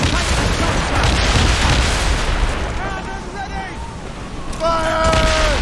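Ship cannons boom in the Assassin's Creed Rogue naval battle, a dense run of heavy low blasts rolling under constant battle noise, with shouting crew voices layered on top.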